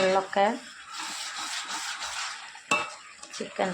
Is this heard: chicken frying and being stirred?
yes